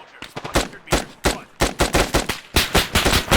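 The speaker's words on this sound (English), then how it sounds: "Firing at whatever I can" Rapid bursts of automatic rifle fire ring out in Arma 3, a loud close string of sharp shots in quick clusters with short pauses between them.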